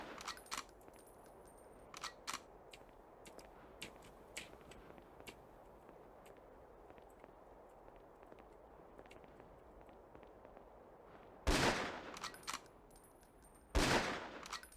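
Sniper rifle fire in a Ghost Recon match: mostly sparse clicks and faint ticks over quiet ambience, then two loud, separated gunshot blasts near the end.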